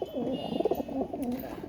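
Pigeons coo repeatedly in soft, rolling phrases through the short stretch. The birds are kept by a fancier in Bengal and have just been fed outdoors, some wet from rain, while a voice murmurs faintly in the background.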